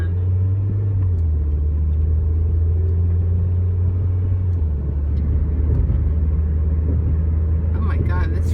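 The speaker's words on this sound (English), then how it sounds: "Oh my God, this traffic is bad." Steady road traffic rumbles close by, a continuous low engine drone from cars that holds for several seconds, with voices talking over it near the end.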